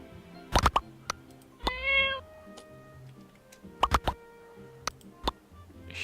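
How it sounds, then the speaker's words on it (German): A single drawn-out meow from a cat in the video game My Time at Portia, loud and clear, surrounded by sharp ticking clicks and soft game ambience. "Ich wusste gar nicht, dass eine Katze hier rumschwirrt."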